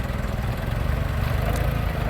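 A New Holland 6610S tractor plowing a flooded rice paddy, its engine running steadily with a dense low rumble and a continuous mid-range drone, near and unbroken throughout.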